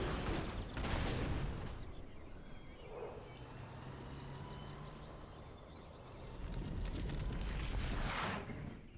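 In a strategy video game, RPG explosions and gunfire boom and rumble under a steady low roar, with heavier volleys early and again near the end, dense and somewhat distant.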